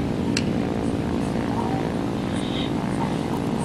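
The engines of a Soviet Pe-2 bomber in a flight video game give a dense, unbroken drone that stays loud and steady throughout, filling the whole clip.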